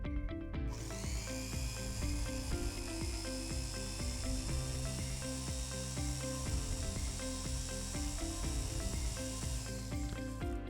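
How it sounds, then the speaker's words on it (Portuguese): A vibration test rig shakes a bolted joint fitted with a common nut, giving a steady dense mechanical hum with layered tonal buzzing and a constant rattling texture, unbroken and at an even level throughout. "Vamos ver como se comporta então uma porca comum quando submetida à vibração."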